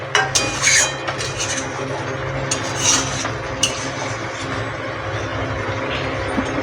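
Prawns go into a pot of simmering doi chingri gravy amid steady background bubbling and hum, with scattered clinks and scrapes of a utensil against the pot.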